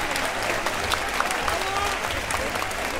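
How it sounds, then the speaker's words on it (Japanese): An audience at a Japanese grime MC battle event, Sengoku MC Battle, applauds a rapper with steady, dense clapping and some crowd noise, loud and continuous throughout. "ジーザナップですマカに大きな拍手"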